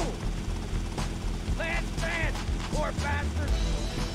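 A helicopter flying in the video game GTA Vice City, a steady mechanical rotor drone running loud and close throughout, with game voices chattering over it in rising and falling tones.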